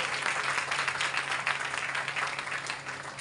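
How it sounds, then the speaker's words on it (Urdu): A congregation at a Sunday church gathering applauds steadily for a few seconds, a dense and even wash of clapping at moderate level with no voices. "زوردار تالیاں پاک روح کے لیے بجائیں"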